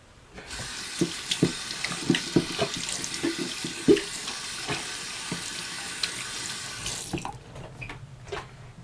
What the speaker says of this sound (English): So now I'm gonna wash the soap off of my hands.